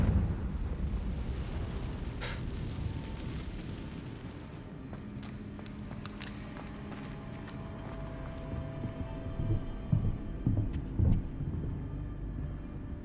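A Confringo blasting spell detonating in Hogwarts Legacy, a deep rumbling explosion that rolls on and fades, followed by scattered thumps and pops under game ambience.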